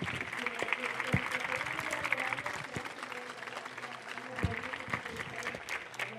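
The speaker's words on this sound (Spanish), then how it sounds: "Pido un fuerte aplauso, para Ernesto." An audience at a microblogging talk claps for the speaker, Ernesto, in a moderately quiet, steady patter with a few sharper single claps and some low background murmur throughout.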